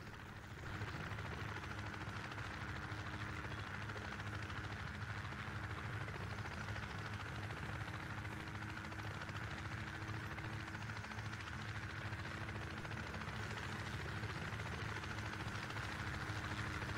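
A helicopter flies in the military shooter Project Reality, its steady rotor and engine drone holding loud and constant throughout with no talk over it.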